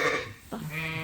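A sheep in a lambing barn bleats close by, one wavering call that breaks and then carries on in a second, lower drawn-out tone.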